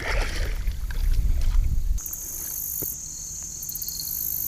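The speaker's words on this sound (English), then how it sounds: "I hear drag pulling behind me" Fishing reel drag whines in a steady high-pitched buzz as a river carp pulls line, after a stretch of low wind and water rumble outdoors by the river.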